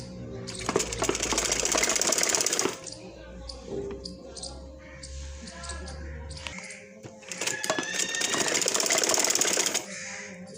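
A sewing machine stitches a baby dress in two close, rapid bursts of a few seconds each, separated by a quieter pause with faint handling sounds.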